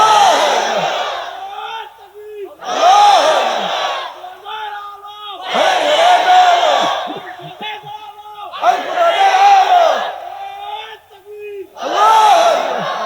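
A large rally crowd bellows a chant in unison, five or six loud, drawn-out collective shouts in a steady rhythm with brief pauses between.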